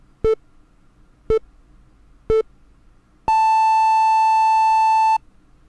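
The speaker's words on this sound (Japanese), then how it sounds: "こういうのをピュアトーンと言うんですけれども" Three short, evenly spaced synthesizer beeps followed by one long, higher sustained pure tone, like a radio time signal, clean and loud with no talking.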